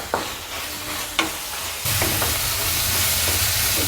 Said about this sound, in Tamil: ஆட் பண்ணிவிட்டு ஒரு தடவை நல்லா கிளறி மிக்ஸ் பண்ணி விட்டுடுங்க.